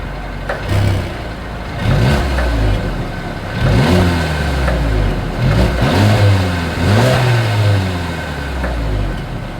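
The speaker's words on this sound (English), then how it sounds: "As always, here is that exhaust clip." A 2022 Mercedes-Benz CLA 250 exhaust revs loudly and up close, with several rising and falling throttle blips separated by brief idle dips, heard alone without talk.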